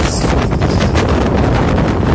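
Strong wind gusts roar across an anchored sailboat at night near Ibiza, a steady, loud rushing buffet of wind on the rigging and hull with no voices.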